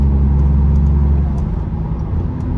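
Audi S3 8P with a 260 bhp turbocharged engine under hard acceleration from inside the cabin, a loud, steady low-pitched drone that eases slightly partway through, with no talking.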